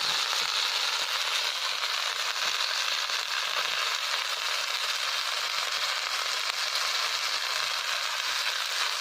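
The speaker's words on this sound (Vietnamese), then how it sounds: "lửa to quá" A large outdoor fire burns in hot, dry forest while cicadas are roasted, making a steady, dense crackling and hissing roar that continues without a break, close and fairly loud, with no talking.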